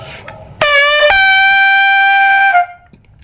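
A brassy horn sounds two notes, the second held steadily for a couple of seconds before cutting off, loud and close.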